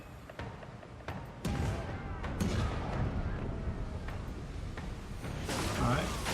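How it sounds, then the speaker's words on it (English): Ship cannons fire grape shot in the pirate naval battle game Pillars of Eternity II: Deadfire, a few heavy booms and crashes over a dense, rumbling battle din with music underneath. "Let's fire the starboard cannons."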